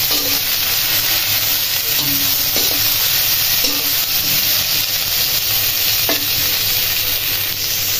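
Garlic, onion, coriander leaves and green chili fry in hot oil, giving a loud, steady sizzling hiss that runs unbroken throughout, with a few faint clinks of stirring nearby.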